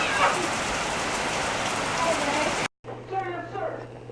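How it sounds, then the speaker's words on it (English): Heavy rain pours steadily onto surfaces outdoors, a dense loud hiss that cuts off abruptly, followed by a quieter indoor stretch with a low hum and faint voices talking. "That's heavy rain."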